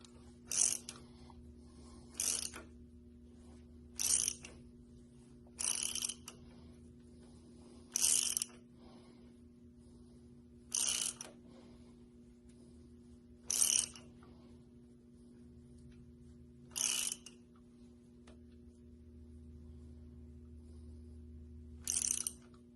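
A wrench ratchets in short bursts while the valves are adjusted on a C10 with a 350 engine, about nine crisp clicking spells spaced a couple of seconds apart over a low steady hum.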